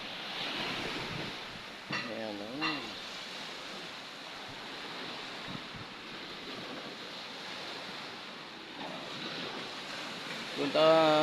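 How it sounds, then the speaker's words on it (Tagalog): Sea waves wash onto the shore near Isla Verde facing Mindoro, a steady broadband surf roar mixed with strong cold wind buffeting the microphone, with brief bursts of talk over it. "Hampas ng tubig sa dagat."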